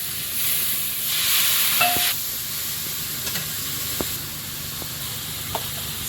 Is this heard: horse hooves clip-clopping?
no